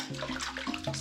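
Water pours and splashes into a pot at an off-grid outdoor cooking spot, a brief, close, gurgling stream with bubbling tones.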